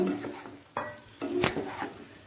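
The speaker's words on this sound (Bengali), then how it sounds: "আলু আর ফুলকপিটা মশলার সাথে ভালো করে কষিয়ে নেব" Fried potato and cauliflower being stirred into spice paste for a Bengali kasa dish, low sizzling under a few distinct scraping and clattering stirs in the pan, close by.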